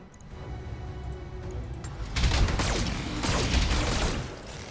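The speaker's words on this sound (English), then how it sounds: "Oh, ammo explosion. Mech destroyed." In the BattleTech video game, an ammunition explosion destroys a mech as loud layered blasts and crashing debris, with two heavy bursts rising over a steady mechanical rumble.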